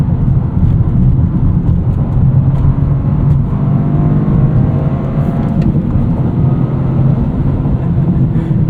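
Toyota GR Corolla engine with a six-speed manual, running steadily and loud throughout while driving, a continuous low drone with a slight rise in pitch, no talking over it.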